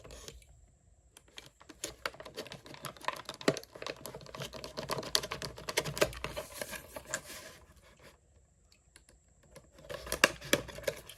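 A box cutter scrapes stickers off a PS4 charging station box. Close, dry scratching comes in quick irregular bursts, easing briefly near the end before a final flurry.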